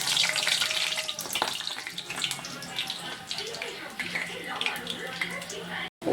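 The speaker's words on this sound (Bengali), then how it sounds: "তেলের মধ্যে ছেড়ে দিলাম" Singara samosas sizzle as they fry in hot oil, a broad crackling hiss with bubbling bursts and clinks from a utensil, while a person talks intermittently over it.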